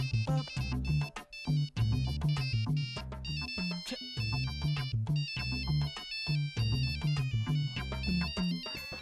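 A mobile phone ringtone plays loudly, a bright melodic tune looping over and over with no one speaking.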